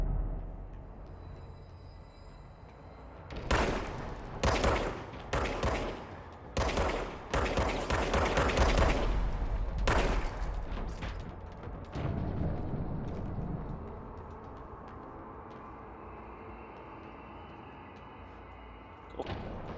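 The service weapon in the video game Control fires a rapid series of loud, punchy gunshot bursts over several seconds, then fades into a low ambient hum and scattered quiet clicks.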